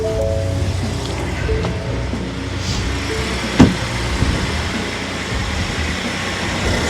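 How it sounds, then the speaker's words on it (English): A Ford F150 Powerboost truck fitted with an upgraded intercooler and piping idles steadily with a low, even engine rumble, and a brief mechanical click or knock rises above it once partway through. "we're gonna go ahead and fire it up, let it idle for a few minutes"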